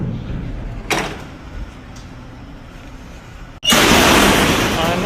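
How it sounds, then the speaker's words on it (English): A loud door slides or slams open with a sudden, heavy roaring rush of noise that stays loud after a quiet stretch with faint background sounds. "you just have to listen to how fucking loud this door is"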